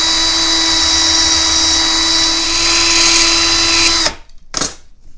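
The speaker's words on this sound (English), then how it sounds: "I can put this in the chuck of the drill and I can do the same thing again." A power drill whirs steadily and loudly for about four seconds, then cuts off, followed by a short final burst of spinning, as it turns a prop .45 ACP bullet held in its chuck.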